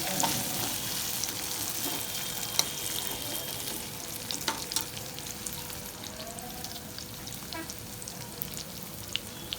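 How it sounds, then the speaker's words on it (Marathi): Potato pieces sauté in hot oil with coriander for sabudana khichadi, giving a steady close sizzle and crackle with occasional scraping from stirring, unbroken and without voices. "हा बटाटा टाकूया आपण. तो पण हे केलं. ह्याला आपण थोडंसं परतून घेऊया."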